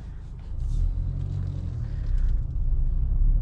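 Honda Accord Touring with a manual transmission on the move, a low steady engine and road rumble from inside the cabin, swelling slightly as it accelerates, with no talking.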